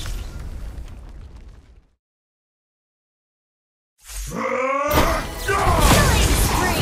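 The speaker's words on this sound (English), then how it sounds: "Our turret has been destroyed." A turret being destroyed in Mobile Legends: a game explosion bursts in with a rising, whooshing sweep and a loud rumbling blast, preceded by game noise and a short silence.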